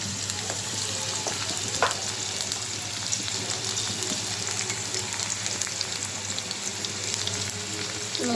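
Onion paste, turmeric and chili powder fry for a tengra fish curry, a steady close sizzle with faint stirring scrapes throughout and no talk.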